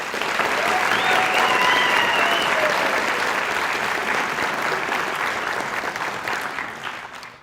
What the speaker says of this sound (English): can we give these cadets a round of applause?